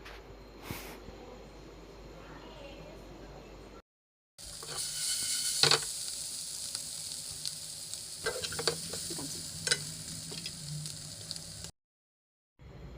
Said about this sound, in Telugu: మంచి గోల్డెన్ బ్రౌన్ కలర్ వచ్చేలాగా బాగా ఫ్రై చేయండి.